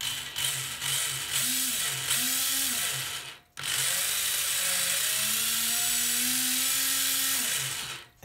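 Steering servo on a Tamiya Fighting Buggy (Super Champ) RC car sweeping back and forth, with several short whirring buzzes followed by one longer sustained whine, fairly close and alone with no talk.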